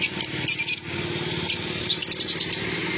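Cockatiels and lovebirds in a bird shop, chirping in quick bright bursts close by, with overlapping tweets and a low background murmur underneath.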